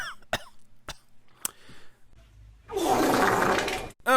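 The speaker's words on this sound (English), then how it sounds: "Just coughed up some blood." A person coughs several times in short dry bursts, then gives one longer harsh, rasping hack.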